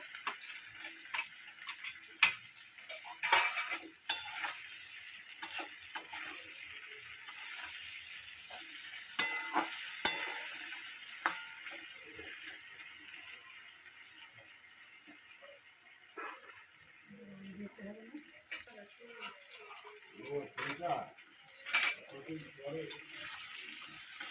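Banana flower curry cooks in a pan with boiled chickpeas and chopped tomatoes, giving a steady soft sizzle with frequent scraping stir clicks and ticks throughout.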